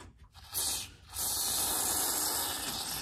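Woolwax undercoating hisses steadily from a spray can, applied to a vehicle's underside, starting after a brief pause and then running loud and continuous for over two seconds with no voices.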